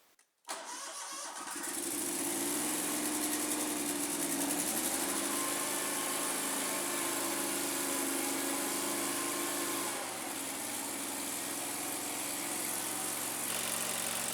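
A Scag lawn mower engine catches after a brief crank on choke and then runs at a steady, loud idle with a constant buzzing drone, with no talking.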